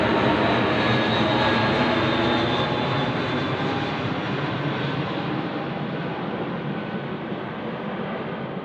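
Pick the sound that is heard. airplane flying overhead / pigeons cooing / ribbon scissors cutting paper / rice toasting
airplane flying overhead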